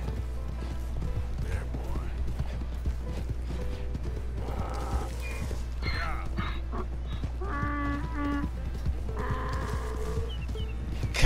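A donkey in Red Dead Redemption 2 cries out in several strained, braying bursts over steady hoof clopping and faint mechanical clicks, with a voice speaking in between.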